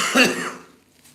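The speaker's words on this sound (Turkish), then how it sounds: "bu öksürük öldürecek beni." A single harsh cough bursts out close by and trails off into quiet, from someone sitting in a kitchen in Kayseri.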